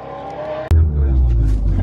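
MK7 Golf R in a roll race against a 1320 Camaro, a loud, close car engine droning steadily, then surging abruptly after a sharp break into a heavy, sustained roar with strong low rumble.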